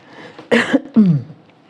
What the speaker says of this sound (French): si je tousse un petit peu, je m'en excuse par avance